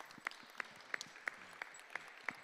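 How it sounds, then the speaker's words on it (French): Sparse, evenly spaced clapping from a small audience at the closing evening of UNESCO Sound Week 2021, each clap sharp and distinct in a steady rhythm with quiet gaps between. "Nous sommes quelques-uns pour applaudir cette formation"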